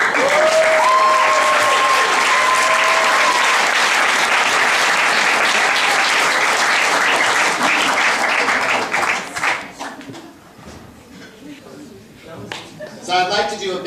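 Loud applause at an award ceremony rolls on for several seconds, then thins into scattered claps and shuffling as voices come through near the end.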